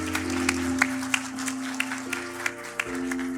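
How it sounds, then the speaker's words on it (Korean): A church congregation at a Korean Baptist ordination service claps in welcome: scattered, fairly soft handclaps with a few sharper individual claps, over a sustained organ-like tone. "박수로 맞이해 주시기 바랍니다"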